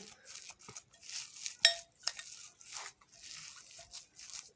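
A spoon works finely chopped coriander into a bell pepper filling, giving soft scraping bursts and a sharp clink against the pot at about the midpoint, close and fairly quiet.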